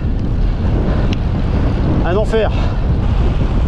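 Steady roar of headwind buffeting the microphone while cycling a gravel bike along a long, slightly winding road, with a brief spoken exclamation partway through.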